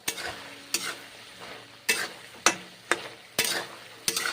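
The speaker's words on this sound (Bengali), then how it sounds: "কি সুন্দর রান্না করছি নারকল ফুলকপি ঘুগনি" Coconut and cauliflower ghugni, a vegetarian dish, cooks in a pan with sharp spatula scrapes coming roughly every half second to second over a soft simmering sizzle, close and without talk.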